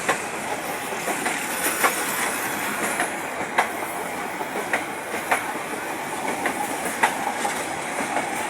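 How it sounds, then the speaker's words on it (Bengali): A train rolls past a railway level crossing, loud and close, with a continuous rumble and regular clickety-clack wheel beats on the rails and no one talking. "এখানে একটা ট্রেন চলে আসছে।"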